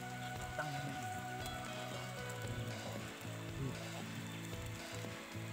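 Steady rain patters on surfaces beside a flooded river, a dense continuous hiss with scattered drop impacts and a low background rumble, no voices.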